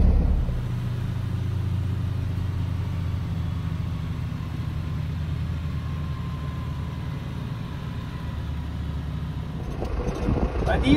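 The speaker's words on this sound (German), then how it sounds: "man fährt da über einen Kilometer zum nächsten Border" Camper driving across the stretch between the Saudi and Oman border posts, giving a steady low engine and road rumble close by for most of the clip, with a brief shift near the end; no one speaks.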